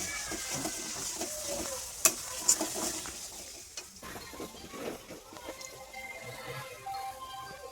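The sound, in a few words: aloo dum (potato curry) being stirred and fried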